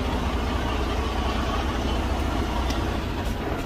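A Detroit DD15 diesel engine in a truck idles steadily with a dense, continuous low rumble. It runs alone with no voices.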